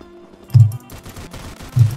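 Gunfire in Roblox Polyguns, two punchy low shots about a second apart over a faint background of rapid crackling fire, no voices.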